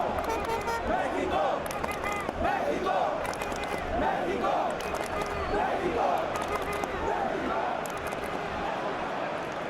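Capacity stadium crowd in the eFootball PES 2021 football game, a Mexico vs England match, roaring and chanting in a steady dense wash throughout, with a commentator's voice heard over it.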